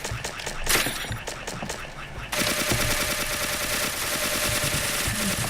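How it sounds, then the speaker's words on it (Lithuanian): Rapid automatic gunfire from the video game Ace of Spades runs as a dense, continuous rattle of shots, growing louder and steadier partway through. "Kas čia šaudo?"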